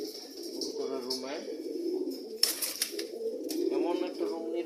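Pigeons coo softly in a pigeon room, with low throaty calls repeating under a person talking nearby.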